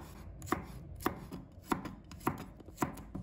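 A knife slicing garlic on a cutting board, five or six crisp, evenly spaced chops that ring out clearly against a quiet kitchen background.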